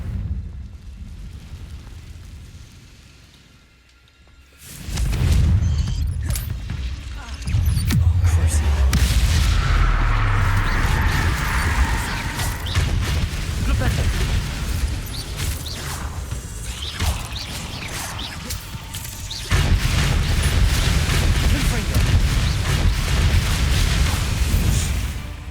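Spell blasts from the Confringo fire spell in the Hogwarts Legacy video game, loud booming bursts with whooshing debris over continuous game music and ambience, several impacts spread across the stretch.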